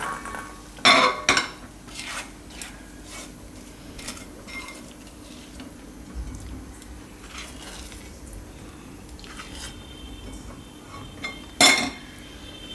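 Boiled noodles for thecha chowmein are tipped from the cooking pot into another vessel, with a few sharp metal clinks and scrapes of utensils against the pots, the loudest near the start and again near the end.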